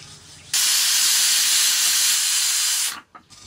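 A pressure cooker vents steam in a loud, steady hiss that begins abruptly, holds for about two and a half seconds and then cuts off, in a home kitchen where Bengali dishes are being cooked.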